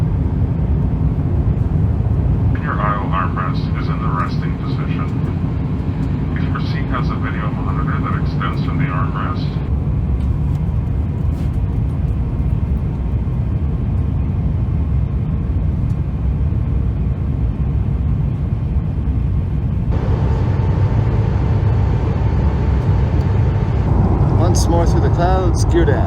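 Airliner cabin noise fills a descent before landing, a steady loud broadband roar of engines and airflow, with faint tonal chimes and announcements drifting through and speech present in places.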